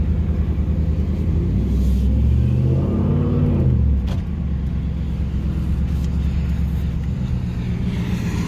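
A Hennessey Ford VelociRaptor truck engine drones loudly and close by, swelling into a brief rising rev near the start before settling back to a steady, heavy rumble.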